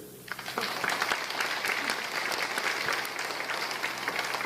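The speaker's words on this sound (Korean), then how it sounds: "여러분 한번 박수 쳐주세요" An audience at a lecture on quantum information and communication technology breaks into dense, sustained clapping after a brief quiet start, holding steady and close until the end.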